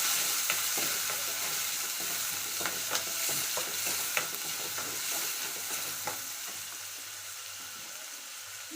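Two onions frying in a pan while being stirred for mutton sukka, a steady soft sizzle with scattered scraping and clicking strokes of the spoon at irregular intervals.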